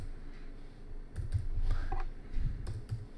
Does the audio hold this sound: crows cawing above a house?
no